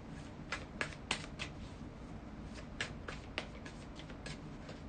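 Tarot cards shuffled steadily by hand, a soft papery riffle with crisp snapping flicks scattered through, close and fairly quiet, no voices.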